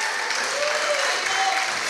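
A church congregation applauding during a sermon, a dense, steady wash of clapping from many hands filling the room at close range.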